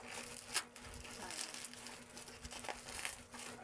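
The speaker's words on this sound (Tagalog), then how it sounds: "Let's unwrap." A plastic-wrapped Kagayaku soap package is being unwrapped, giving continuous close crinkling and crackling with a sharper crunch early on and steady rustling throughout.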